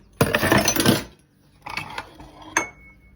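Dishes and utensils clatter and clink during washing up at a home kitchen sink, a long burst of rattling metal and crockery followed by shorter bursts and a sharp clink, close by.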